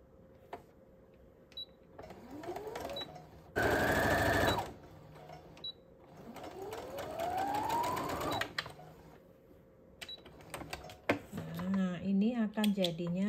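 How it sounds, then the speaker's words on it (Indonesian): Sewing machine stitching the seam of a quilt block, running in several short bursts with rising whine as it speeds up and slows, with quiet narration between and over the stitching. "nanti ini aku jahit dari sini ke sini."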